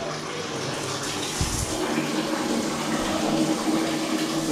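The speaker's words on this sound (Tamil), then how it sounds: "ஷவரில் தண்ணி வருகிறது அப்படியே மலை சாரல் மாதிரி ஷவரில் தண்ணி வருது." Shower water pouring steadily in a bathroom with a bathtub at a hill resort room, a broad continuous hiss and splash that stays fairly close and even throughout.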